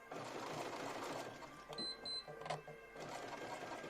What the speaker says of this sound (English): And we go back and forth, and this gives you a good strong stitch.